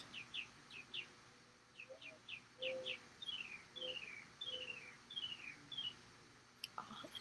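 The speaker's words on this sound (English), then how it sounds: "All the different noises that one bird makes." A single outdoor bird sings a varied series of quick chirps and descending whistled phrases, repeated in short bursts over quiet, faint background ambience.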